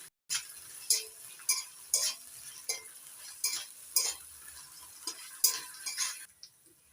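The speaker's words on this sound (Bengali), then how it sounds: "এবার ভালো করে মশলাটা কষিয়ে নেব" Spice paste with green chilli paste sautéed in a pan for a fish roe dish, with a spoon scraping and stirring in a steady rhythm of about a dozen close, crisp strokes over a soft sizzle, ending in a brief quiet.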